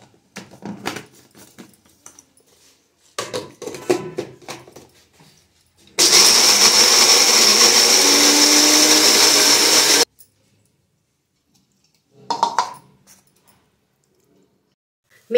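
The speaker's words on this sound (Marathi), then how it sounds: "आता हे मी बारीक करून घेते मिक्सरला" A kitchen mixer grinder whirs loudly for about four seconds as it grinds sesame, peanuts and water, with quiet talking before and after the burst.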